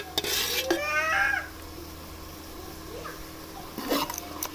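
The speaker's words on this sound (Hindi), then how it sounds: "मैं इसके अंदर 2 चम्मच घी के डालेंगे।" A spoon clinks and scrapes against a cooking pot as two spoonfuls of ghee go into the spices for a spinach and gram lentil curry, with a few light metallic taps near and close up.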